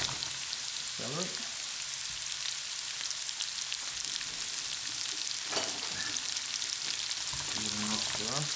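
Celery sizzling and frying in a hot pan while short ribs are cooked, a steady crackling hiss running throughout with occasional stirring scrapes and brief voice fragments.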